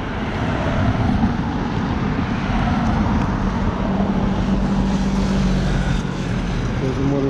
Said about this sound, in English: There's a motorcycle.